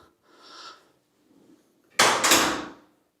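A hotel bathroom door in a RIU resort room in Dubai gives a soft brief swish, then a loud, close latch and thud as it shuts after a short pause.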